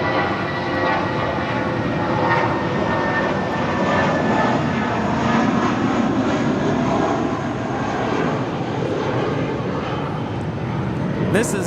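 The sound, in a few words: United Airlines Airbus A319 jet departing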